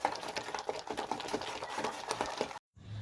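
Ground lentil paste seasoned with salt, turmeric, poppy seed and chili powder being beaten briskly by hand in a bowl, a steady rapid scraping and slapping rhythm up close, then a brief silence and a soft low rumble at the end.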